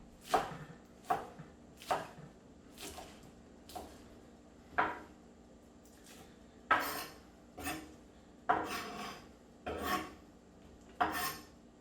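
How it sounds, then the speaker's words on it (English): A knife chops garnish for a taco bake on a cutting board, about a dozen sharp, evenly spaced strikes with a brief pause midway, close and clear with no talking. "give it a quick chop one way, put it together, turn it, and quick chop it the other way"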